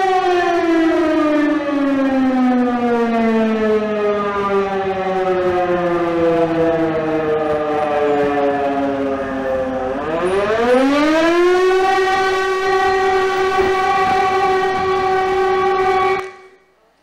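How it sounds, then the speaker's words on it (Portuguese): A loud air-raid siren wails alone at night during the war in Ukraine, its pitch slowly sinking then rising sharply and holding steady before cutting off abruptly. "Esse daqui é um som de uma sirene antiaérea"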